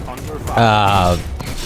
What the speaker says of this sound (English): So your left click is the machine gun